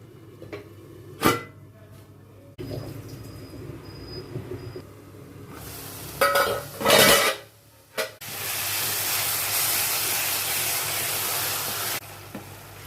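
Kadai paneer masala is stirred in a pan with a few sharp clanks and scrapes, a lid clatters down, and a steady, moderately loud sizzling hiss follows, with no speech.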